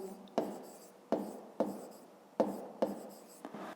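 A pen writes on paper during a maths lesson, giving about six short scratchy strokes that each start sharply and fade, close and quiet, with no speech.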